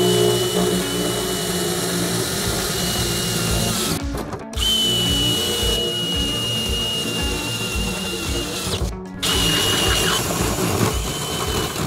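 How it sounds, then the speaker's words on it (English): A power drill bores holes in floor tile, a loud continuous whining grind that cuts out briefly twice, each time spinning straight back up, with no talk over it. "But I'm gonna drill a few holes and cut it with my Snapper Shear Pro"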